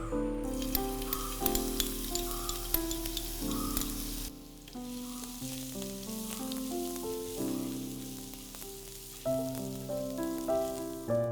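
Julienned ginger sizzles in hot coconut oil in a pan for a vegetable korma, a steady hissing crackle that swells with a few spoon clicks, drops briefly, then picks up again near the end, with no voices.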